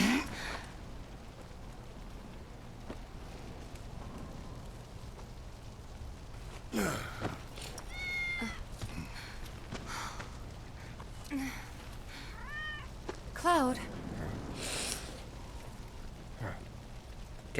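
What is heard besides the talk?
cat meowing in video game Final Fantasy VII Remake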